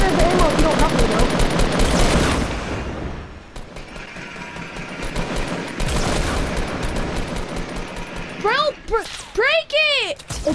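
Rapid, dense video game gunfire crackles in sustained bursts, with excited voices shouting over it and swooping, warbling electronic effects near the end.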